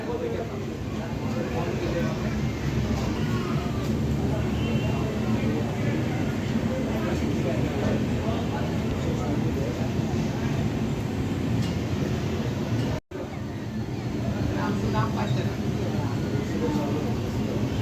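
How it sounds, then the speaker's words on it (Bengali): A passenger train pulls away from a platform, giving a steady low rumble and rattle of the carriages that holds evenly throughout, with a momentary dropout near the end. "আমাদের ট্রেনও ঠিক সময় মতোই ছেড়ে দিল"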